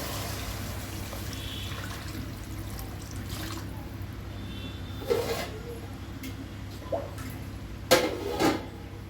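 A cup of water is poured into a steel pot of rice for Telangana-style bagara rice, two parts water to one of rice: a soft trickle over steady kitchen hiss, with a few louder clinks of the pot near the end.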